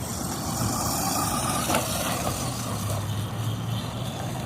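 A small electric motor whines steadily with a constant buzzing hum, a Redcat Blackout XTE brushed 2S RC truck running nearby, no voices.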